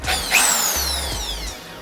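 A power drill spins up and winds down while polishing aluminium with polish compound on a Kawasaki KX450F motocross bike, a short whining burst with falling pitch, close and alone.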